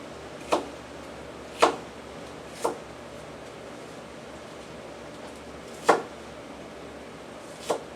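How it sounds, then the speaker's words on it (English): Cooked ground beef being cut up in a pan, five sharp separate knocks of a utensil spaced irregularly over a quiet kitchen background, no talking. "when I go to cut it up, it's fairly easy."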